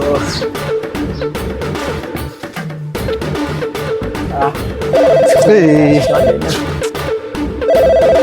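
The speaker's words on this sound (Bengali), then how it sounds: "এই সময় আবার কিরা ফোন দিল।" A mobile phone rings with an incoming call during a Bangla comedy sketch, its melodic ringtone sounding in short repeated bursts over busy background sound and voices.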